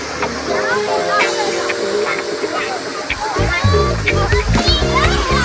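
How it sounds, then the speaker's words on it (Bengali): A decorative fountain at Nandankanan splashes with a steady, close hiss of falling water, while children's voices chatter over it throughout. "দেখুন এখানে ঝর্ণাটা কি সুন্দর করেছে।"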